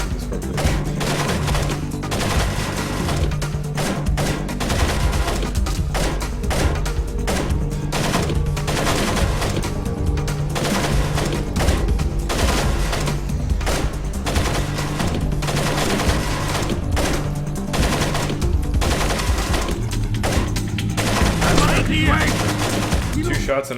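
Gunfire in the Splinter Cell video game on hard mode, with dense bursts of rapid automatic shots and single cracks repeating through the whole stretch over a low game soundtrack. A voice speaks faintly now and then.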